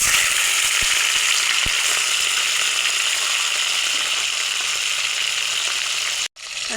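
Salted, turmeric-rubbed hilsa fish head frying in hot oil, a loud steady sizzle and crackle that holds throughout with a few sharp pops, then cuts off abruptly near the end.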